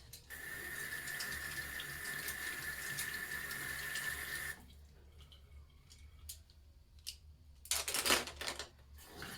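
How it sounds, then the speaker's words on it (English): Tap water runs steadily into a sink while makeup brushes are washed, a continuous close hiss for several seconds that stops abruptly, followed by quieter splashes and a brief louder gush of water near the end. "I also like to put a little water in my little tub of soap so that it's just a little bit wetter for the bristles."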